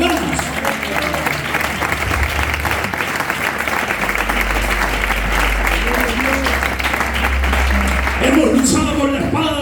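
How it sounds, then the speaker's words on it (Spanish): A church congregation breaks into strong, continuous applause during a sermon, a dense wash of clapping that holds throughout, with voices and a shout rising over it near the end. "Dale un fuerte aplauso a Dios si lo vas a hacer con ganas."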